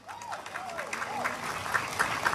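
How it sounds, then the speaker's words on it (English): Audience applause at an outdoor jazz concert under the stars, scattered claps building over a few seconds while someone speaks in the background. "How about another round of applause for the six-man trio?"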